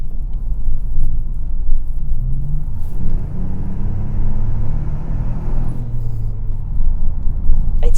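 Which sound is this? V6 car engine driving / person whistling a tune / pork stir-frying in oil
V6 car engine driving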